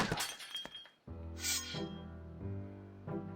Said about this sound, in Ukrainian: люстра може впасти на голову